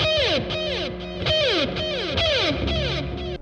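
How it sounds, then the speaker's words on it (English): Distorted electric guitar played through a Blackstar ID:X 100 amp, strummed chords and bends with a fuzzy, saturated tone and a reverb wash trailing each note. "If you have reverb, it will become distorted."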